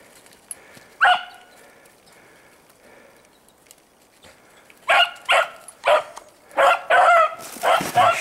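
A young herding dog working stock gives a run of loud, sharp barks close by, about seven in quick succession during the second half, after a mostly quiet stretch with one earlier bark.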